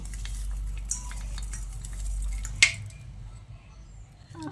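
Peanuts tipped into a pan of fried shredded potato (jhuri aloo bhaja), giving a brief scattering rustle and a single sharp clatter partway through over a low steady hum, without talk.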